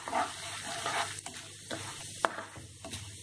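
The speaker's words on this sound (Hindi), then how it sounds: "और इसमें मैं ये उड़द दाल डालूंगी, इसे भी भून लेती हूँ।" Urad dal roasting in a pan gives a soft, low sizzle, with quiet scraping and stirring strokes now and then, close and fairly faint throughout.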